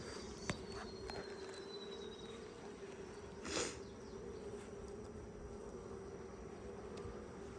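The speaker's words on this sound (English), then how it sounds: "There's a bumblebee flying through." Bumblebee flying past a honey-filled beehive outdoors, a brief faint buzz swelling and fading midway over a quiet, steady background hum.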